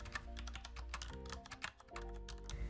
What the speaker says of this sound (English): start typing the fields that you want